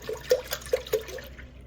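Almost a full gallon of whole milk pours into a pot for making mozzarella, a close, gurgling liquid stream with a few glugs from the jug.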